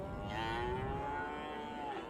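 Cattle lowing on open grazing land while a Border Collie herds them, one long sustained moo with a steady tone, fairly close and clear, no talking.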